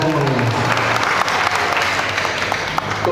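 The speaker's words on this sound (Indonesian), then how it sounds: "Tepuk tangan buat semuanya." A hall full of people at an alumni halal bihalal gathering claps steadily and loudly for the full stretch, a dense, even wash of applause with a few voices faint beneath it.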